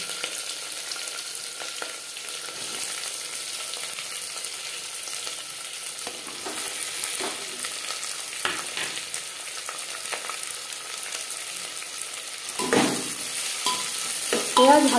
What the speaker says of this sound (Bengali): এখানে আমি 4-5 চামচ সরষের তেল গরম করে নিয়েছি। এবার দিয়ে দেব পেঁয়াজ কুচি।